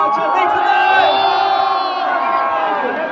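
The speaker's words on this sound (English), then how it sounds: "A huge round of applause for everyone out here." A concert crowd at a live university fest show cheers and whoops loudly and steadily, a dense roar of voices with sustained yelling, close and continuous throughout.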